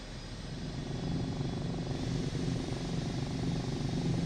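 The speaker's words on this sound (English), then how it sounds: "So I've got lots of other helicopter sounds coming in" A steady helicopter drone with rotor thrum and engine whine in Microsoft Flight Simulator 2024 holds at an even level throughout, sounding synthetic and constant.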